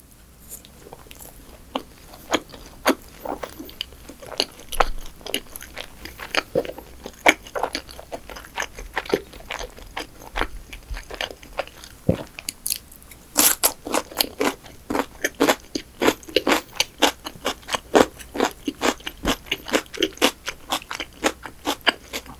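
Cheddar cheese fried chicken from BBQ being eaten up close, with crisp bites, crunching and wet chewing in a steady irregular rhythm that grows denser and louder in the second half, no talking.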